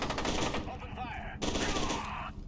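Gunfire crackles through a firefight in the video game F.E.A.R. 2: Project Origin, with quiet, repeated shots and a short voice partway through.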